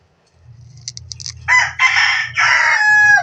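A rooster crows loudly and close by, a long strained call with a few short clucks before it, over a low steady hum.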